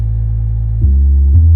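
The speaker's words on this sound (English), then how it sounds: "the same thing, but the second bass sound like this." A loud, heavy sub bass from a dance beat plays alone as a deep droning tone that steps down in pitch twice, giving a rumbling, powerful low end with no other instruments or voices.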